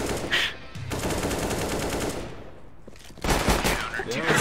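Rapid video-game gunfire aimed at a police officer, bursts of automatic shots near and loud, broken by a brief pause before another volley, with voices talking over it.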